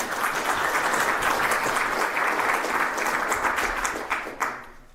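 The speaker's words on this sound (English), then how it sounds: "big applause" At a cozy Bayesian statistics conference, an audience gives an arriving speaker warm, even applause: dense clapping that stays steady for several seconds and then thins out toward the end.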